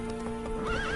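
Roach, the horse in the Witcher 3 video game, galloping with quick hoofbeats and a rising whinny near the end, over a steady sustained tonal backdrop.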